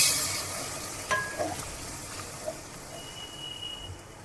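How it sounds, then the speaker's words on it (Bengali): Chicken in a pot with a cup of lukewarm water just added is stirred, a steady sizzling hiss with a few soft scraping knocks of the spoon, close and continuous, no voices. "দিয়ে একটু ভালো করে মিশিয়ে দেবো"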